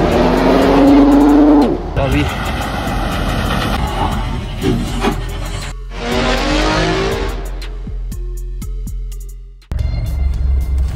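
Modified monster Mahindra Bolero SUV on a first off-road run, its engine rumbling and revving with road and drivetrain noise throughout, close and loud, while people talk briefly over it.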